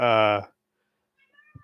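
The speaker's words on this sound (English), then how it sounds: "That's my cat. He's lonely." A male cat lets out one loud, close, drawn-out meow at the start, then the room goes quiet apart from a few faint small sounds near the end.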